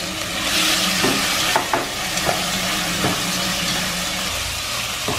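Marinated pork belly stir-fried in a pot, a steady close sizzle and crackle of frying with scraping stirring strokes throughout, no voices.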